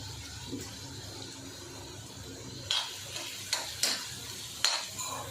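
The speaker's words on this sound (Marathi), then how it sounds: "कांदा आता व्यवस्थित पहिल्यांदा परतून घेऊया आपण" An onion sautés in a pan for squid masala, a soft steady sizzle broken by a few brief scraping stirs toward the end, close and fairly quiet with no talking.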